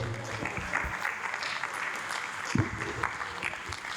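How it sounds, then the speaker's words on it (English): Fairly faint audience applause for a speaker at a conference hall event, steady throughout with a few sharper claps, and some murmured voices underneath. "Please, another round of applause for Reverend Fada John Oluoma."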